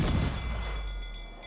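A ship's cannon fires in Assassin's Creed IV: Black Flag, giving one deep, heavy boom that rumbles and slowly fades over about a second, with no voices.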